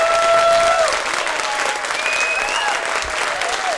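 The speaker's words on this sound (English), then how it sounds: "We have another round of applause for Mr. Warren Tate" Dense, steady applause from a keynote audience for speaker Warren Tate after his talk on communication, a full wash of clapping with a few voices or whistles rising above it, loud and continuous throughout.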